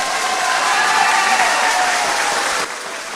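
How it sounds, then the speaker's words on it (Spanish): An audience at a pastoral conference gives a loud, dense round of applause for Buenaventura, clapping strongly and then dropping in intensity near the end. "Así que un aplauso para Buenaventura."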